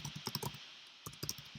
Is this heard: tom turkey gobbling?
no